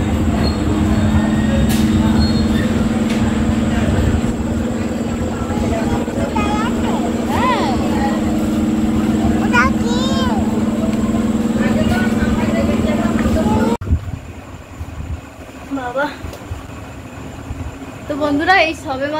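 A broken-down train at a railway station platform gives off a loud, steady rumble with squealing wheels, while people talk nearby throughout. Partway through, the din abruptly drops to a quieter background.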